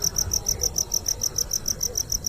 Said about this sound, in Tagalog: sa huni ng mga kuliglig